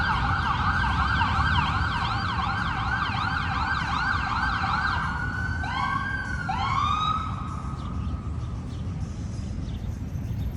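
Ambulance siren at a traffic circle in DC, wailing steadily at moderate distance and then shifting to a faster yelp as it passes, over a constant rumble of city traffic.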